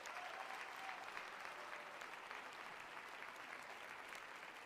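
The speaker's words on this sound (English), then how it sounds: "Can we give these guys a huge round of applause?" Audience applause fills the room as a steady, dense wash of clapping from a sizeable crowd, holding at an even moderate level from start to finish with no voices standing out.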